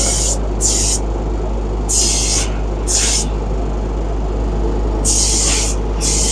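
A spray gun hisses Cerakote coating onto a metal V-band flange in several short, loud bursts, heard over a constant low mechanical hum from close by.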